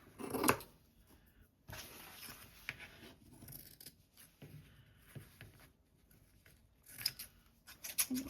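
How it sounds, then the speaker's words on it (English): Scissors snip off the corners of fabric for a journal cover, the blades a little sticky with glue and dull; several short, quiet cuts come in separate bursts with pauses between them. "next we're going to cut off the corners, to miter them, as they say, just to make sure that there is no bulk when we fold it over"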